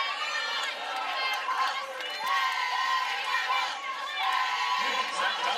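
Crowd at a college softball game between Oklahoma and Iowa State, a dense steady roar of cheering and chatter that swells slightly at moments, with a commentator's voice running over it.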